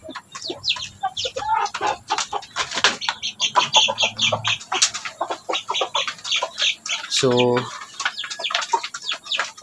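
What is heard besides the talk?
Basilan hen clucking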